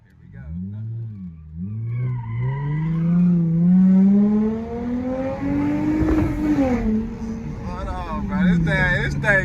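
A car slides and its tires squeal at a car meet, a long wavering screech that rises and falls with the engine revving underneath, loud and close, with people talking over it.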